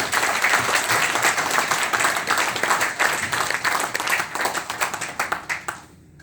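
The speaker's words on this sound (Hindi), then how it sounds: "मैं जोरदार तालियां चाहता हूं इसके लिए" Loud, sustained applause from an audience at a crypto training event in Gurgaon, dense clapping throughout that fades out near the end.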